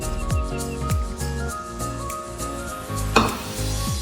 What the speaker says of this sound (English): Now mix them the entire mixture